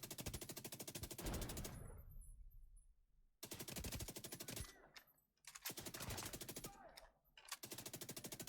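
Rapid automatic weapon fire from the video game The Division 2 rattles in long bursts broken by short pauses, loud and close.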